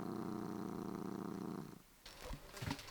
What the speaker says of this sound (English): listen to him purr.